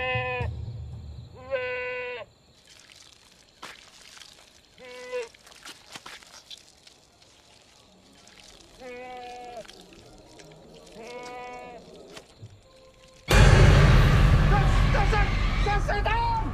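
Goats in a village pen bleat in several short, wavering calls, near and fairly loud, separated by quieter gaps, before a sudden burst of loud noisy commotion takes over at the end.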